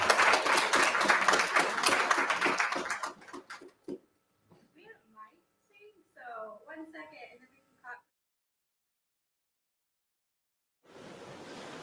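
Applause from an audience at a university speaker's forum fills the opening seconds, dense and steady clapping that stops abruptly, followed by a voice talking and a stretch of near silence before clapping starts again.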